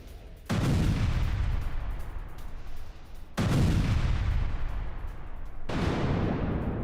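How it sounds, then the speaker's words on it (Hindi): US military bombing of an Iranian navy boat in the Gulf, heard as three heavy booming blasts spaced a few seconds apart, each with a long rumbling decay, loud and close. "अमेरिकी बमबारी में नेवी की ये बोट नष्ट हो गई है।"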